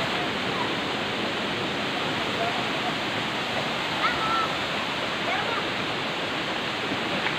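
Waterfall at Bagum Bayan Falls pours in a steady, dense rush of falling water, loud and continuous throughout with no pauses or voices.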